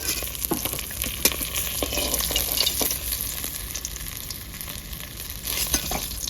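Pieces of Lailontika fish deep-frying in hot oil until crisp and red, a steady close crackle and sizzle with occasional sharper pops and spatula scrapes throughout.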